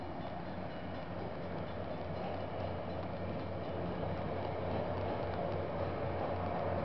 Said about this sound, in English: Train passing by.